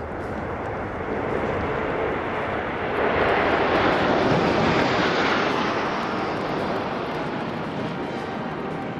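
Patrouille de France jets passing over the Bastille Day military parade in Paris, a broad roaring rumble that swells to a peak mid-pass and then fades slowly, loud and sustained with no speech.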